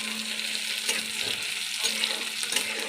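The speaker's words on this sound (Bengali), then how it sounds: "এবারে ওই তেলের মধ্যে পেঁয়াজ কুচোনো একটু ভেজে নিচ্ছি।" Chopped onion fries in hot oil with a steady, close sizzle and crackle, stirred now and then, with no talk.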